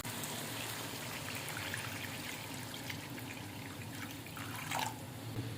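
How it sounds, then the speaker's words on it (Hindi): Four glasses of water pour steadily into a pot of fish curry masala after the oil has separated, a continuous soft splashing and trickling with faint drips near the end. "अब इसमें ऐड करेंगे 4 गिलास पानी के।"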